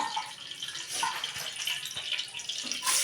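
Warm tap water runs steadily for mixing into a dough in a home kitchen, a continuous close splashing stream with small spatters, alone without talk.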